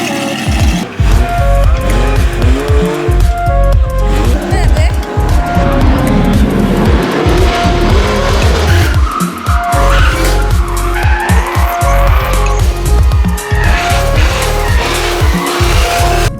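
Race cars drifting on an ice circuit at a night show, loud continuous tire squeal and revving engines layered throughout, close and sustained with repeated skids.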